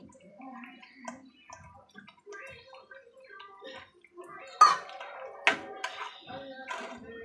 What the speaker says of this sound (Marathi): थोडं पाणी ओतायचं.